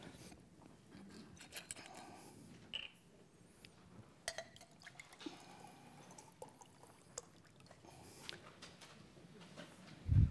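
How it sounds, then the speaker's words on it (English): A glass of water being fetched during a lecture: soft, scattered clinks of glass and faint handling noises, quiet and somewhat distant, ending in a louder bump. "I'm going to have to get myself a glass of water."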